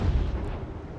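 Cannon and musket fire from an American Revolution battle in the Ultimate General strategy game sounds as one heavy, booming blast up close, followed by a rumbling tail and a faint crack near the end.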